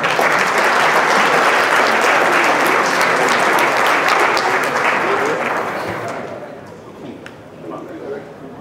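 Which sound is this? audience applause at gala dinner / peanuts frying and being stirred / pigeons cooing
audience applause at gala dinner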